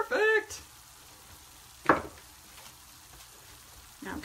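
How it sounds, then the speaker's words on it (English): Onions fry in a pan, sizzling softly and continuously, while a spoon stirs them in brief scraping bursts, with a voice speaking nearby. "We're going to give our onions a stir."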